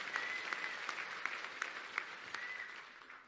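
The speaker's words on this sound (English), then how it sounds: "let's give him a big round of applause" A desert conference audience applauds in a dense, steady wash of clapping that stays even throughout, with no talk over it.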